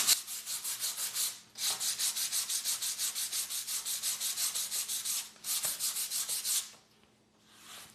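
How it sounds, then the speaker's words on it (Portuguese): Damp painted surface being sanded by hand with sandpaper: rhythmic back-and-forth rasping strokes in fast even bursts, close and fairly loud, with short pauses between runs and no talking. "Agora enquanto tá úmido, você já pode lixar."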